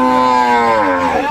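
A native desi cow lows once, loud and close, a steady drawn-out moo that bends downward near its end amid a busy cattle market in Nilphamari.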